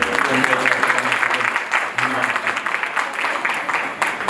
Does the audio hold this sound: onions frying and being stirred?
no